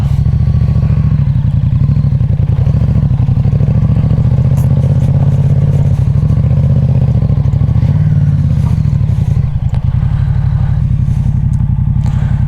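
A motorcycle rides over a rough off-road track, its engine a loud, continuous rumble mixed with rattling clatter and small surges throughout, with no voices.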